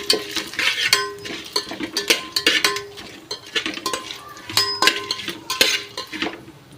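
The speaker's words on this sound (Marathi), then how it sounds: "खडे मसाले घालून छान फिरवायचं" Whole spices for pulao are stirred in a pan at home, a steady run of scraping and clinking spoon strokes against metal over a light sizzle, close and continuous.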